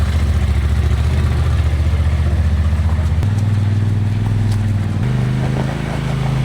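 A Polaris off-road buggy engine runs steadily at a farm, a close, loud, even drone that steps up in pitch twice as the revs rise.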